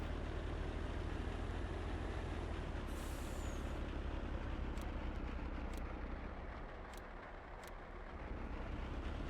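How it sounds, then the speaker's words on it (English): Dump truck engine idling steadily in Farming Simulator 19 while the truck sits stuck against a fence, with a brief hiss and a few sharp metallic clicks over the constant low drone. "How's that working out for you there, dump truck? Fence a bit solid, is it?"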